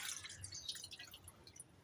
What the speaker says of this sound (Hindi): 2 कप पानी ऐड करेंगे।